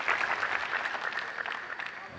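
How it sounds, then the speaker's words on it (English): A Texas home crowd cheers and applauds at a Major League Table Tennis match against Portland, a steady roar of clapping and shouting with commentary running over it throughout. "you can hear the support of the Texas crowd"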